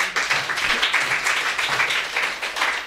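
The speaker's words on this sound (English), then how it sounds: "give a clap to your Heavenly Father." Audience at a church retreat applauds together, a dense, steady wash of many hands clapping close by for a few seconds with no speech over it.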